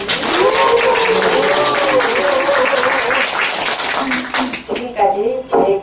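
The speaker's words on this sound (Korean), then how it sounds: "응원의 박수 부탁드립니다" Audience applause at a short speech event, a loud dense wash of clapping heard throughout, with voices and cheering calls rising above it.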